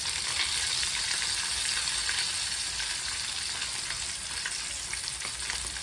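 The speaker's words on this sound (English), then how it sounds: "So just fry it off, spin it round, spin it over." Pork pieces frying in oil for sweet and sour pork crackle with a dense, continuous sizzle, loud and close, with faint stirring under it.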